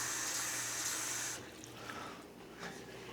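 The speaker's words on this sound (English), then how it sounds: "you're going to want to put in enough water to reach up, sort of like halfway up" Water poured from a quart jar into a canner for home-canning wild Alaskan salmon, a steady broadband rush for about a second and a half that then drops to quieter trickles and small splashes.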